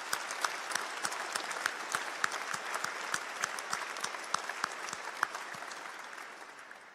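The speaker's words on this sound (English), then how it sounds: "So shall we start with a round of applause to thank them for their support." Graduation ceremony audience in a large hall applauding steadily, a broad wash of many hands with some sharper individual claps standing out, fairly distant and sustained.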